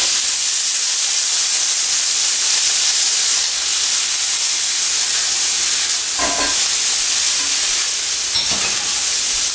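Fava beans frying with onions in olive oil in a hot pan, a loud, dense, continuous sizzle close by, with a couple of brief clatters from stirring.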